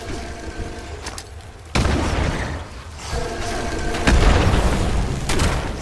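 Grenades explode in the video game Fallout 76, with several heavy booms landing a second or two apart amid game noise, loud and close.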